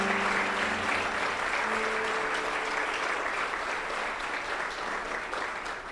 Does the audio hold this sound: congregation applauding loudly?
yes